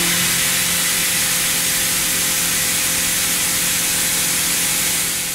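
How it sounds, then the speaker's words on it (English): A CNC machine spindle holding a BIG-PLUS tool holder mills a slot, producing a loud, steady, broadband hiss and whir with faint machine tones underneath and no talking. "the Big Plus HMC holder is loaded into the spindle to mill the second slot"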